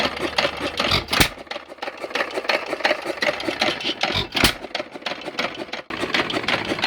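A century-old stationary engine with a battery-powered ignition runs steadily, giving a close, busy, rapid mechanical chatter with a few louder pops along the way and no talking.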